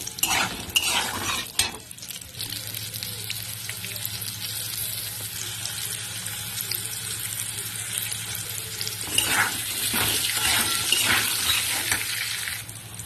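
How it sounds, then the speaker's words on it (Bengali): Potato pieces fry in oil with salt and turmeric, a steady broadband sizzle with scraping stirs and brief clatter, louder toward the end; no talking. "পটল ভাজার তেলের মধ্যে দিয়ে দেবো আমি আলুগুলো আলুগুলো একটু নুন হলুদ দিয়ে আমি লাল লাল করে ভেজে নেব"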